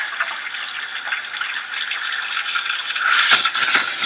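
Tap water runs from a household spigot in a steady, hissy rush with a faint rattle, growing louder and splashier toward the end, heard close with no voices.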